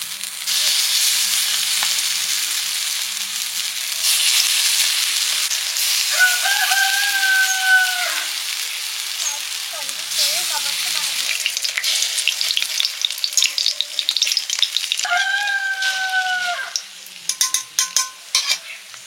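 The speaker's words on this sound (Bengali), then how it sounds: "এবার ডালের বড়াগুলো ভেজে নিচ্ছি।" Lentil fritters fry in oil with a loud, continuous crackling sizzle and some stirring noises, while a rooster crows twice in the background.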